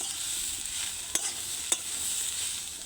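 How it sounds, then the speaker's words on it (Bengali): Tomatoes sizzle as they fry in a pan with a fish head, steady crackling frying noise close by, broken by two sharp spatula scrapes as the pan is stirred. "এখানে টমেটোগুলো দিয়ে দিলাম"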